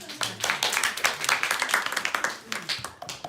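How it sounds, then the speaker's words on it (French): Audience at a French idea-workshop event claps for a few seconds, a lively patter of many hands with distinct individual claps standing out, close and fairly loud. "Excellent, bravo, on les applaudit."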